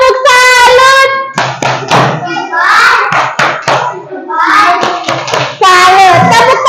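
Schoolchildren in an Indonesian classroom clap their hands in a quick rhythmic cheer, loud and close, broken up by a teacher and kids talking over and between the bursts.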